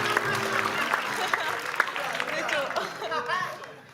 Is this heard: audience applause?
yes